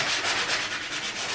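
Hand sanding of a wooden garage shelf, a close, steady rasping rub with a rhythmic back-and-forth pulse.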